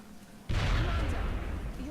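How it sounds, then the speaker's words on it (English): Grenade blast in the video game XCOM: Enemy Unknown, a sudden loud boom followed by a long rumbling, crackling tail of debris and echo. "let's try to see if we can get him to throw a grenade and take this guy out"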